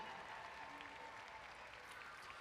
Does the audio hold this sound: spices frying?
no